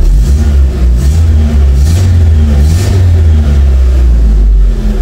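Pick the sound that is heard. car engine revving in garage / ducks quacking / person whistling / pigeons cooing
car engine revving in garage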